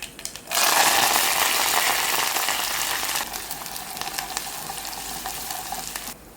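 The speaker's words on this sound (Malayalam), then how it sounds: "ഇനി ഇതിലേക്ക് കുറച്ച് കടുക് പൊട്ടിക്കാം" Loud, steady crackling sizzle of mustard seeds and shallots frying in hot oil, with small pops scattered throughout and no voices.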